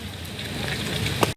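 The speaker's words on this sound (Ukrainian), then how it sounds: "Дощик накрапа, але ж якось не хочеться в квартиру заходити." Light rain falls on a dark evening street in Kyiv, a steady soft patter that stays even throughout, with one brief louder tap near the end.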